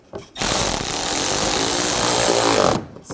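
A power tool drives a screw into rear bumper trim on a 2014-2020 Nissan Rogue, one loud, steady, close whir of about two and a half seconds that starts and stops abruptly, with no talking.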